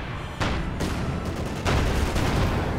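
Dense battle gunfire from the Company of Heroes 2 strategy game, with a Panzer IV tank fighting shock troopers at close range: continuous crackling shots and bursts, growing louder and heavier partway through, with no voices.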